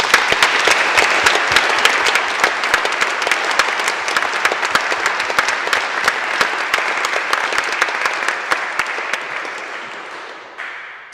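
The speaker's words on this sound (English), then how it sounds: "Can we give them a round of applause" An audience at a lunchtime guitar recital applauds the concert sound team, dense sustained clapping from many hands that holds steady for about ten seconds before tapering off at the end.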